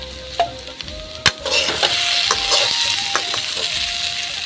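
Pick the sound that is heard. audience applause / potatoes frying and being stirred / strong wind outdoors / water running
potatoes frying and being stirred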